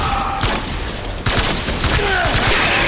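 Assault rifle gunfire in the video game Death Stranding, a rapid run of sharp shots in uneven bursts over a busy game soundscape, loud and close, with no talking.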